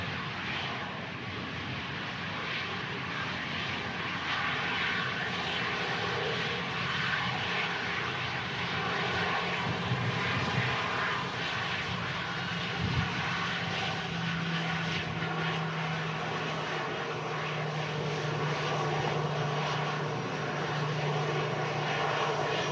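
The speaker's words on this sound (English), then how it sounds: "The aircraft slowing down nicely, making that sharp right-hand turn." Airliner slowing after landing and turning at Manchester Airport in strong crosswinds, a continuous loud engine roar with a low tone that shifts as it decelerates, no talk.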